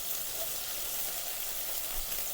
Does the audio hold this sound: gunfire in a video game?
no